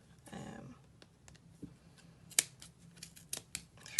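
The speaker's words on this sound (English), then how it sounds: "So now what I do is just snip" Scissors snip through knitted yarn on a small toy bunny in a few sharp, quiet cuts, close to the mic, with light handling rustle before and between them.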